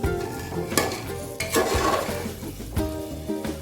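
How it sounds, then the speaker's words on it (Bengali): Mutton curry is stirred in a pan, with a spoon clanking and scraping against the metal in repeated strokes over a soft sizzle, close and fairly loud. "আমি একটু মাটন রান্না করেছি, আজকে একটু মাটন রান্না করছি।"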